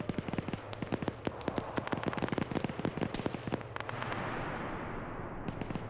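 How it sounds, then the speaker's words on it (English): Gunfire in a multiplayer shooter match: dense, rapid bursts of close automatic shots crackle almost nonstop, with scattered single reports and a brief rumbling blast, loud and alone with no talking. "Now you can start shooting"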